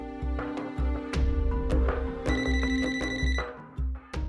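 A telephone rings repeatedly in bright, electronic tones over a bouncy music track, the ringing pattern recurring several times.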